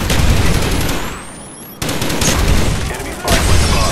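Gunfire in the video game Call of Duty Black Ops multiplayer, loud rapid automatic bursts with a short dip in the middle before shooting resumes, close and dense.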